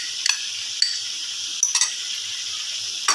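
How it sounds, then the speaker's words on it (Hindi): Yogurt fries with spices in a pan over steady, close sizzling, broken by a few sharp clinks and scrapes of a spoon stirring at irregular intervals, with no voices. "दही की भुनाई जो है वो हो रही है"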